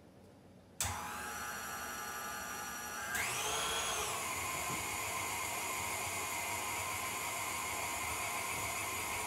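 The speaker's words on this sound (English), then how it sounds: "And now I'm going to run this through the grinder." A meat grinder grinding spiced meat for kibbeh starts with a sudden whine and runs as a continuous loud motor drone with a steady hum, without speech.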